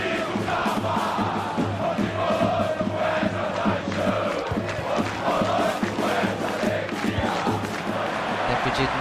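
São Paulo supporters chant in a packed virtual stadium during an Atlético MG versus São Paulo match in FIFA 23 on PC, a loud continuous crowd roar with rhythmic singing and a voice talking over it.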